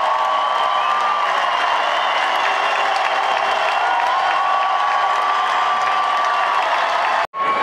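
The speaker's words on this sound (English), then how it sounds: "the crowd here erupted with energy the entire night" A political convention crowd cheers and applauds in a loud, continuous roar with scattered whistles and whoops, cutting off abruptly near the end.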